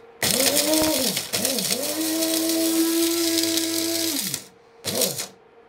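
An electric spice grinder blitzes whole spices for garam masala, running without its fine attachment in a loud whirring burst that dips and restarts, then a short final pulse.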